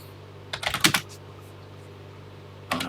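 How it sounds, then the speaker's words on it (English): Keys clacking on a TI home computer keyboard as a BASIC program is typed in, a quick burst of several strokes, a pause, then another short burst starting near the end, close and fairly loud with no talk. "it won't take too long to type this in here"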